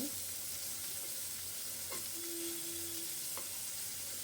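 Fish roe frying in a pan, cut into small pieces, makes a soft, even hiss of hot oil throughout, with a couple of faint utensil touches and no talking.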